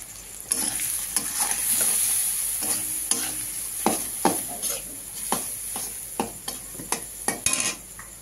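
Fish curry spices with turmeric frying in oil for a Bengali rohu curry with okra and potato, a steady sizzle under repeated sharp scrapes and clinks of a spatula stirring in the pan, close up, with no talking.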